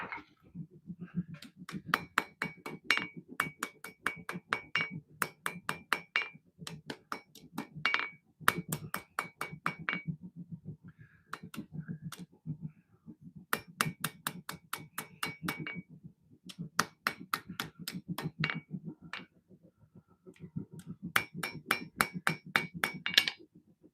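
Steel struck repeatedly with a hammer while forging a custom knife, sharp metallic clanks in quick bursts separated by brief pauses, close and loud with ringing overtones.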